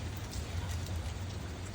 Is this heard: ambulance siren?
no